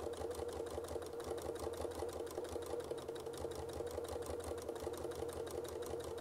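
Sewing machine stitching small oval quilting shapes with very fine thread, a steady fast needle rhythm running continuously at moderate level with a low motor hum, no talking.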